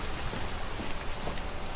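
Steady rain pours down in a rainy scene from the video game Detroit: Become Human, a dense, even hiss of drops hitting surfaces throughout, with no talk over it.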